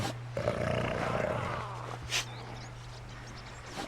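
A wolf in Red Dead Redemption 2 lets out a low, rumbling growl up close over a steady background hum, followed by a short sharp snarl and quieter rustling.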